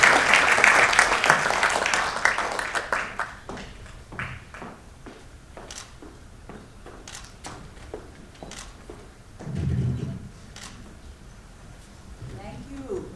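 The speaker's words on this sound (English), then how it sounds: "please give a round of applause" Loud audience applause at a public speaking graduation ceremony dies down within a few seconds into scattered individual claps and footsteps, then a brief low rumble, with a voice starting to speak near the end.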